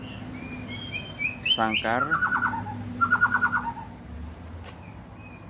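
A caged pet kacer, an oriental magpie-robin, gives close bursts of bright whistles and rapid chirping trills over a low background hum, while a person briefly speaks.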